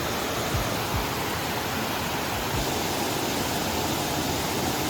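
Steady, loud broadband rush of a jungle waterfall in Bali, continuous and even throughout with no clear voices.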